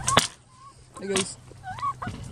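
Chickens, including a Barred Rock hen, cluck and squawk nearby in short bursts, with a few rising calls and some brief rustling.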